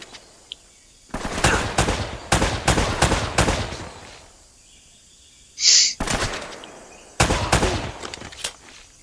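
Rapid bursts of automatic gunfire from the video game Uncharted: Drake's Fortune, loud and close, come in several clusters separated by short quiet gaps, with one brief high whistling sound in the middle.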